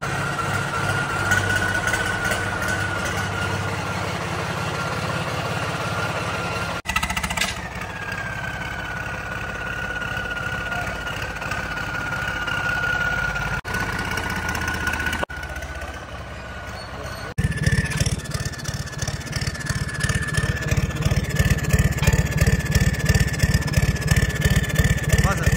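A Swaraj 855 tractor's diesel engine starts up and settles into a steady idle, close by, with a rhythmic thumping chug that grows louder toward the end while people talk nearby.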